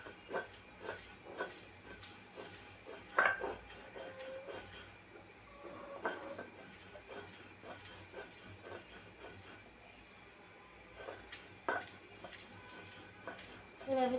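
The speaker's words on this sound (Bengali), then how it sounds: "এখন পাটায় বাটার পালা।" Mashed food being ground by hand on a pata, a flat grinding stone, giving a steady rasping, scraping scrub with repeated strokes and occasional sharper knocks, fairly close and moderately loud, with no talk over it.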